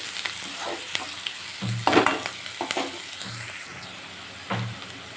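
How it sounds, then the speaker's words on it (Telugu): Boiled egg and chicken curry frying and being stirred in a pan, with a steady sizzle and the scrape of a spoon recurring every second or so, close and without talk. "కొద్దిగా బ్రౌన్ కలర్ రావాలి వేయించుకుంటేనే టేస్ట్ బాగుంటుంది"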